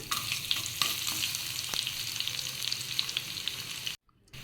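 Chana dal sizzles in hot oil for a tempering, a close, steady crackling fry with occasional sharper pops that cuts off abruptly near the end.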